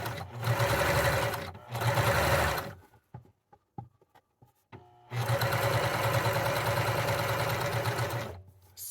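A sewing machine top stitches along a seam on a summer headband in two short bursts, pauses with faint clicks, then runs again in a long steady stretch, close and loud with no talking.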